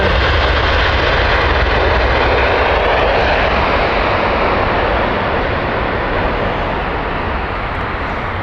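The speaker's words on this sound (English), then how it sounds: "Delta's A330 Neo." Delta Airbus A330neo airliner flying past at Heathrow Airport, a loud, steady broadband jet roar that holds strong throughout and fades only slightly toward the end, with no voices.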